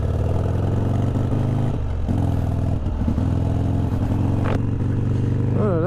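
A 1200 XR gasoline motorcycle rumbling steadily while being ridden, a dense low engine drone loud and close throughout with slight shifts in pitch as it pulls along.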